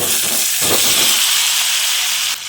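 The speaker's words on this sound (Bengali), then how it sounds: "এবার ঘি ও সাদা তেলটা ভালোভাবে গরম হয়ে এলে এর মধ্যে ম্যারিনেট করা আলুগুলো দিয়ে দিচ্ছি" Marinated potatoes frying in hot ghee and oil for aloo dum give off a loud, steady hiss and sizzle that runs through the whole stretch, with a faint stirring scrape partway through and a slight drop in level near the end.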